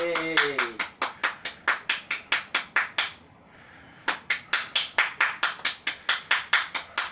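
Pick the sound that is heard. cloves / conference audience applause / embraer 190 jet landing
conference audience applause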